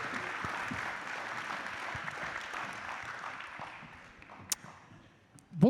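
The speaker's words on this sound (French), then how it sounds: "Merci de réserver là aussi une salve d'applaudissements à Antoine Noël" Audience applause at a conference on AI, new technologies and workplace health and safety, a dense round of clapping that gradually fades out, followed by a sharp knock and some closer noise at the end.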